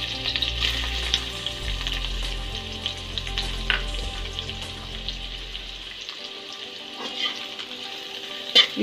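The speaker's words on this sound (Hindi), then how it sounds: "और इसी में मैं प्याज डाल दूंगी।" Onions sizzling in a hot pan with garlic and ginger for veg chowmein, a steady close frying crackle with faint stirring and a low hum that cuts out partway, no talking.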